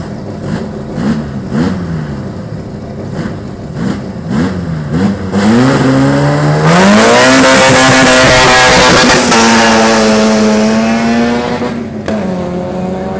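An Opel Corsa race car's engine revs on a track, with a series of quick throttle blips followed by a loud sustained rising run at full power, then a steady high drone as it pulls away, close and loud.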